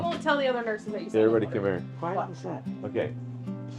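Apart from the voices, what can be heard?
No everyday noises stand out.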